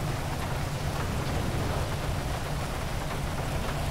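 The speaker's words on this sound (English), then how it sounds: "We're just still standing in the rain right now, just getting soaked." Steady heavy rain pours down outdoors, a dense unbroken hiss with a low rumble beneath, loud and constant with no voices.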